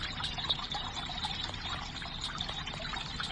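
Water flows steadily in the Flow Water 3D Fountain Puzzle video game, a continuous trickling stream with faint rhythmic drips, moderately close and without talk.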